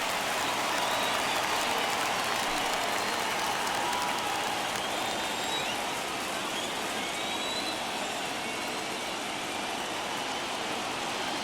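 Big stadium crowd of over 39,000 roaring and cheering steadily at a Twins vs Yankees playoff baseball game, a dense wall of applause and shouts that holds loud throughout.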